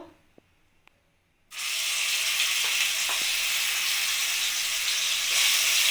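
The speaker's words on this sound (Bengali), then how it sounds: "কড়াইয়ের তেলটা গরম হয়ে গেছে আর আমি এখানে একটা বড় সাইজের পেঁয়াজ মিক্সিতে পেস্ট করে নিয়েছি সেটা আমি কড়াইতে দিয়ে দেবো" Onion paste hits hot refined oil in a kadai with a sudden loud sizzle, then frying goes on as a steady, dense crackling hiss. Two faint clicks come just before.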